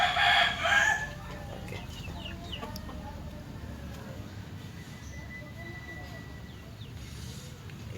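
A Bangkok rooster suffering from a snoring illness crows loudly and close at the start, then clucks and rasps softly over a steady background hum while someone speaks briefly.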